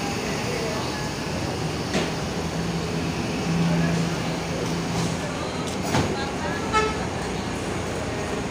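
A Haryanto bus horn sounds in a sustained honk over a steady background of traffic and engine rumble, swelling briefly louder near the middle.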